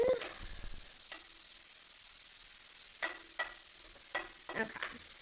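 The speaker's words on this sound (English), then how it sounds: "So about a tablespoon of paprika, and then just stir" Paprika being stirred into a frying shrimp pasta sauce, with a few scraping spoon strokes and light sizzling, the strokes clustered toward the end, close and fairly quiet.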